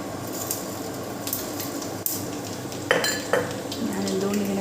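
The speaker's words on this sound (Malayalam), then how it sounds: "ഇനി നമ്മൾ കടുക് പൊട്ടിക്കാൻ പോവുകയാണ്" Mustard seeds and urad dal hit hot coconut oil in a Kerala kitchen, a soft background crackle broken by metallic clinks of a spoon against the pan and a couple of sharper scrapes.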